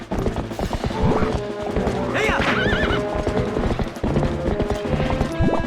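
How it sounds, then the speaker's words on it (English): A horse whinnies and neighs over steady clip-clopping hooves in The Legend of Zelda: Twilight Princess, with game music underneath and a loud, continuous mix. "Horse."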